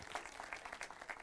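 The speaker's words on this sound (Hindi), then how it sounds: "इस बात पे ताली हो जाए।" An audience claps at a talk show in steady, faint applause that runs through the whole short moment as a soft, even patter of many hands.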